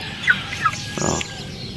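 Brahma chickens, a large breed kept in a pen, make a few short, faint clucking calls at a moderate distance, with a brief burst of rustling partway through.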